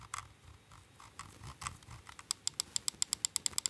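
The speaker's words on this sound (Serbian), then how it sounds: "Scroll wheel." Scroll wheel of a DareU A955 gaming mouse, turned close up: soft, uneven notched ticks that grow sharper and faster into a rapid, crisp ratcheting run near the end.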